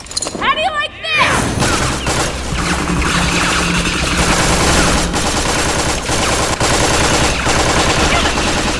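Rapid automatic gunfire in the video game Tales from the Borderlands, a loud, sustained burst of close shots after a brief opening sound, with in-game voices shouting over the clatter.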